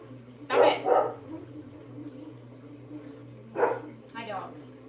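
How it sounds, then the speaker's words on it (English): A dog barks close by, a quick double bark followed after a pause by another bark and a softer yip, over a quiet room. "My dog."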